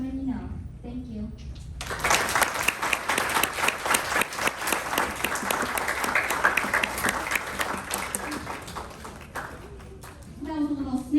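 Audience applause at a school district board meeting: a sustained burst of clapping from a room full of people, starting after a brief spoken line and fading near the end as a voice returns.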